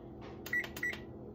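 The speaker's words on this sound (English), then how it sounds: "So let me turn on the oven." An oven being switched on gives a short series of electronic beeps and button presses over a quiet hum, close and clear, with no talking.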